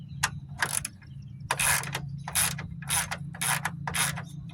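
A ratchet loosens bumper bolts on a 2009 Hyundai Santa Fe, clicking in quick repeated bursts with a steady rhythm, close and fairly loud.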